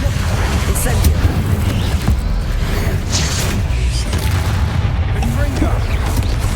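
A fire spell from the video game Hogwarts Legacy roars in a dense, sustained whoosh with heavy low rumble and scattered booming bursts, loud and continuous throughout, without clear pauses.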